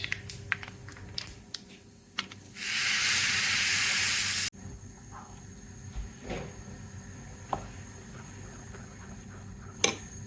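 Spices crackle in hot oil for a simple tempering, then asafoetida goes in and sets off a sudden loud hissing sizzle lasting about two seconds before it drops back to quiet kitchen sounds and scattered clicks.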